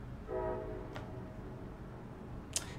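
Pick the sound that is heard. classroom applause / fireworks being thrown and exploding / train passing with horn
train passing with horn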